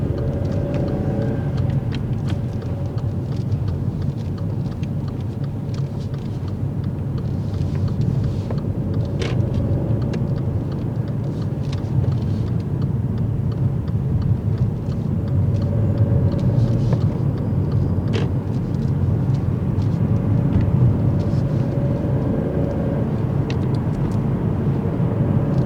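A car on the road as a learner driver presses the gas, giving a steady low engine and tyre rumble that holds throughout with faint occasional clicks, no talk.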